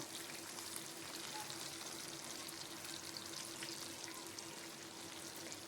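Lote (Bombay duck) fish chops frying in hot oil, a soft continuous sizzle and crackle that stays even throughout, quiet and close with no talking.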